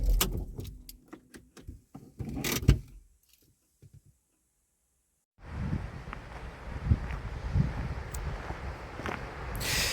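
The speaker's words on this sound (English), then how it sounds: "It's always windy here" Wind buffeting across a seaside headland: gusty rumble and handling noises at first, a brief quiet gap, then a steady, fairly loud rush of wind noise for the rest.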